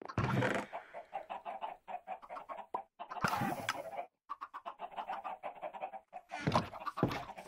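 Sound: chickens clucking on a farm, from the video game Minecraft

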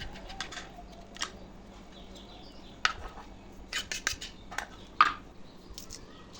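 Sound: cutting eggplant for vegetable curry

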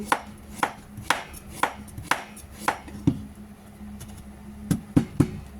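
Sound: chopping pumpkin into pieces

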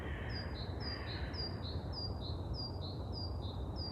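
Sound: bird singing

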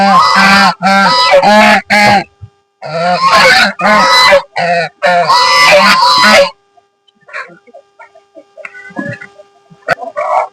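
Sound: geese honking

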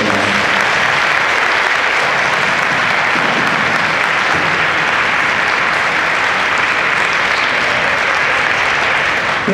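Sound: audience applause after a music performance

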